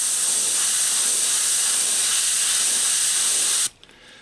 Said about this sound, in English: get a white in my airbrush